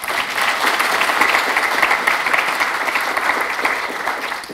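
Loud, sustained applause from a congress audience, a dense crowd of clapping hands holding steady before tapering slightly at the end.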